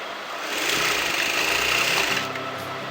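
A sewing machine stitching katori blouse fabric runs in a steady, close whirring buzz, rising after a short start and continuing evenly to the end without talk.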